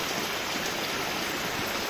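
Heavy rain falls during a thunderstorm in Palitana while rainwater rushes past, making a dense, even, close-up hiss that never lets up, with no voices.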